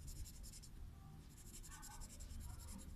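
Pencil scratching steadily across paper while shading a simple drawing of a Loy Krathong float, a close, soft continuous rasp with faint background noise.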